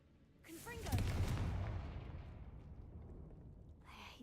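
A single Confringo fire spell blast from the Hogwarts Legacy game, a loud whooshing boom that swells and slowly fades, with a faint voice murmur near the start.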